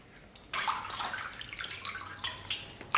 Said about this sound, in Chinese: 接下来咱们把这个牛肉和牛蹄筋儿好好的给它清洗一下